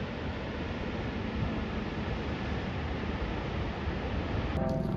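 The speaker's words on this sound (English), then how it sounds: "You can hear the rushing water" Rushing river water roars steadily through the Niagara gorge rapids, a loud, continuous broadband wash with no breaks and no voices.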